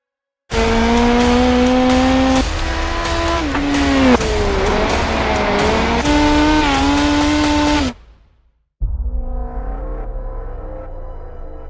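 Race cars roar around Daytona International Speedway in the iRacing simulator, a loud sustained engine drone with shifting pitch and tire squeal that cuts out abruptly near the end, then resumes with a pack of cars accelerating.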